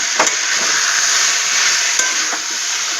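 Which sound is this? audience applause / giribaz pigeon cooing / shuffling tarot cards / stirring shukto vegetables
stirring shukto vegetables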